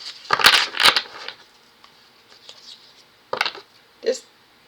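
Tarot cards riffled and shuffled in a couple of quick bursts near the mic, followed by a few softer card flicks and one last brief riffle.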